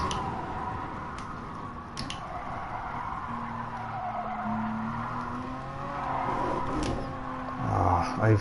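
Tyres squealing in the racing game Gran Turismo Sport, a sustained skidding screech that shifts in pitch as the car slides, over a low engine note, with a voice speaking briefly near the end.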